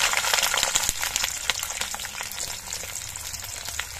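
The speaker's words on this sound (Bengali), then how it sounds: "আমি সাদা তেলেই কিন্তু এই সবজিগুলো ভেজে নিচ্ছি। দিয়ে দিলাম পেঁয়াজ," Onion and vegetables frying in white oil, a steady close hiss of sizzling with faint crackles throughout and no voices.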